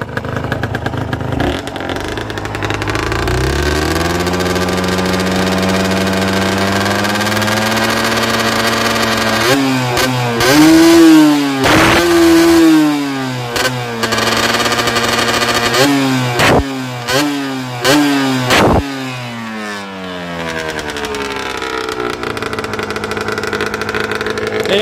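A Yamaha TZM two-stroke motorcycle with a freshly fitted clutch idles steadily up close, then gets several sharp throttle revs that rise and fall before settling back to idle.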